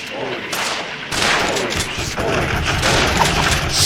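Rapid gunfire in the Sam & Max: The Devil's Playhouse video game. The shots form dense, loud, overlapping bursts that carry on without a break for the whole span.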